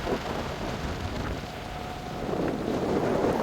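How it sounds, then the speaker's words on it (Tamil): Strong, steady wind roar buffets the microphone while travelling along the coast of an island, a continuous loud rumble with no voices. "காற்று சத்தம் கொஞ்சம் அதிகமாக இருக்கும்."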